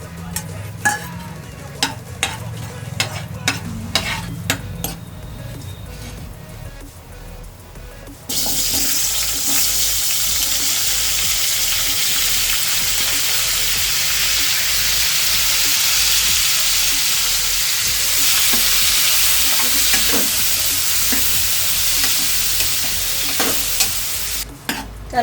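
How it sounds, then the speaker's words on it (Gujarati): Asafoetida tempering with cinnamon, cloves and star anise in hot oil for a tomato chutney: a few quiet clicks and clatters first, then a loud, hissing sizzle bursts in and runs steadily to the end, close by and with no talking. "હવે હિંગનો વઘાર મૂકશું."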